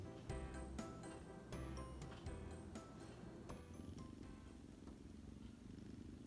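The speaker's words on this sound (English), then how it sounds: "If you can hear him purring" A cat purrs softly and steadily, close by, under a low background hum with a few faint clinks.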